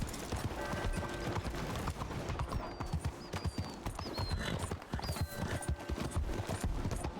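In Red Dead Redemption 2, horse hooves clip-clop steadily and close by across the whole stretch, with faint whinny-like tones and background game ambience.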